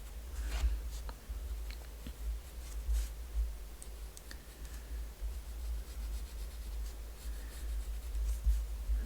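Graphite pencil strokes shading around the edges of a border on paper while drawing a Zentangle Arukas pattern, a steady close scratchy scraping with short rubbing bursts, no voices.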